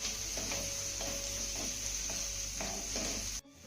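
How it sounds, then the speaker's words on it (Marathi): Coconut paste being stirred into sautéed tomato in a pan, a constant bright sizzle with rhythmic spoon scrapes about every half second, close, cutting off abruptly at the end. "आता हे वाटण ना चांगलं मिक्स करून घ्यायचं आहे"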